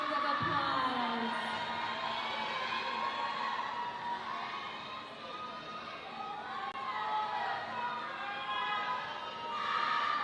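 An audience at a Tahitian dance competition applauds and cheers for the dancers, a sustained wash of clapping with whoops and children's shouts, fairly loud and continuous, swelling again near the end.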